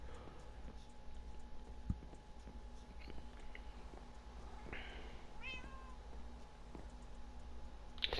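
A cat meows a few times in a Minecraft game session, over steady low background hum with faint clicks.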